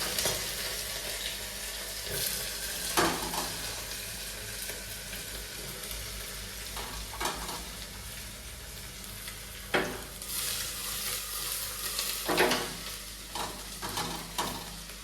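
Greens (saag) frying in hot oil in a home kitchen, a steady close sizzle broken by intermittent stirring scrapes and clatters over about fifteen seconds, with no talk.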